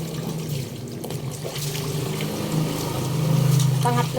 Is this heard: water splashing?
yes